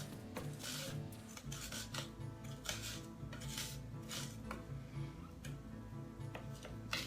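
A knife blade presses and scrapes chopped garlic flat on a board, repeated soft rasping rubs and light ticks, close and quiet with no talking.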